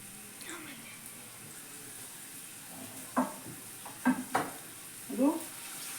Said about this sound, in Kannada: ಇದನ್ನು ಆನಿಯನ್ ಹಾಕ್ತಾ ಇದ್ದೀನಿ.